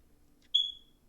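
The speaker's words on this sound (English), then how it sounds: "the beeping is actually starting to annoy me" A single short, high electronic beep sounds once in the middle of an otherwise quiet room, clear and fairly close, with no talking around it.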